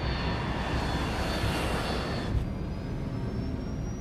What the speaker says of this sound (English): The plane takes off from Stansted Airport at 6:36 p.m.